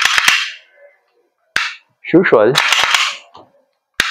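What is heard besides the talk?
racking slide of Umarex Glock 45 gas blowback airsoft pistol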